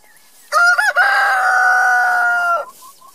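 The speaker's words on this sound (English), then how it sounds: "There's a little chicken in there making a nest." A laying hen's loud, drawn-out vocal call rings out close by for about two seconds while nesting, preceded by a few brief clucks, then quiet.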